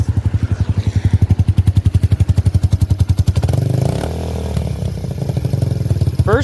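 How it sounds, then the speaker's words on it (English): A motorcycle fitted with a new aftermarket exhaust, recorded outdoors in pouring rain, idles with a loud, steady, evenly pulsing thump, then blips into a rougher, busier rev and settles back into a ragged idle. "So this is what it sounds like with the new exhaust."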